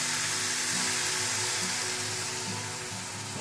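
Small kachki fish frying in a wok and being stirred very gently, a dense continuous sizzle that stays loud and close throughout with no talking.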